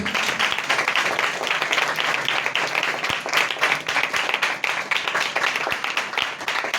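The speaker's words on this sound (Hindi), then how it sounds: "इस कलाम के लिए बड़े जोर से तालियां बजाएं" A church congregation at a Christian sermon applauds loudly and steadily for several seconds, dense overlapping hand claps filling the room without pause, with no voices rising above the clapping.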